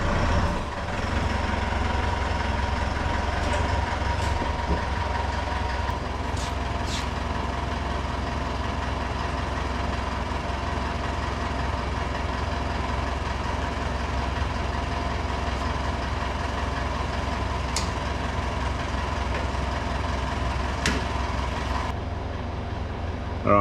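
A car engine runs steadily in a low hum as the vehicle is driven onto an Ifor Williams trailer, with faint clicks and knocks scattered over the continuous drone.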